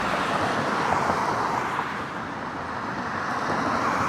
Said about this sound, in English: You see all the cars that go through here.